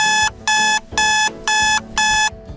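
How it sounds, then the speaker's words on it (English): An alarm clock rings in five loud, evenly spaced electronic bursts with short gaps between them, close and alone with no voices. "have trouble waking up to an alarm clock"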